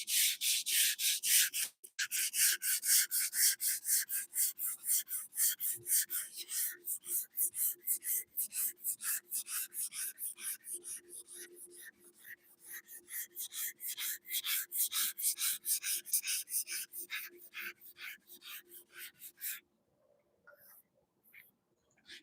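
Hand block sanding of a surface, with rapid rhythmic back-and-forth scrubbing strokes close up that run continuously for about twenty seconds, then stop, leaving faint shuffles.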